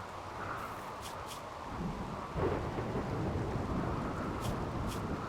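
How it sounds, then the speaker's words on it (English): Steady heavy rain with a low rumble of thunder swelling midway, a continuous stormy ambience from the game RimWorld, without voices. "Yeah, there's a rainy thunderstorm."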